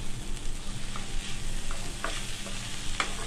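Chicken filling is stirred in a hot pan, giving a continuous sizzle with intermittent scraping and clinking of the spoon against the metal, close and fairly loud.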